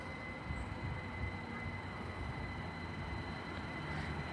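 Double pair of British Rail Class 387 electric trains passing through Pangbourne station, a steady low rumble with a high whine, continuous and moderately distant, no talk.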